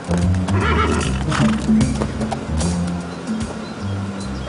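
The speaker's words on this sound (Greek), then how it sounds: "το μεγάλο άσπρο άλογο εδώ μπροστά να μας ακολουθεί" A large white horse neighs and whinnies repeatedly, loud and close, with rough breathy snorts between the calls.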